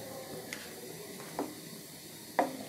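Boiled, fried eggs are stirred into potatoes in a pan, giving faint, sparse scrapes and soft clicks of a spoon over a low, steady hiss of cooking, with a few brief knocks spaced apart.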